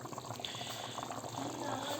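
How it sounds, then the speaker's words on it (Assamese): Meat curry with minced meat boiling in a pot gives a steady, dense bubbling churn throughout, close and moderately loud with no gaps. "উতলি আছে"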